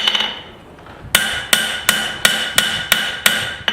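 A hammer rings on hot steel as a knife forged from scrap steel is finished, seven sharp, evenly spaced metallic strikes following a quieter lead-in, close and loud with bright ringing tails.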